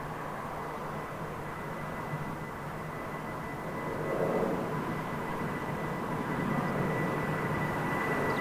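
An Edelweiss Air Airbus A340 jet at London Heathrow runway 09R gives a steady distant roar that swells a little louder partway through.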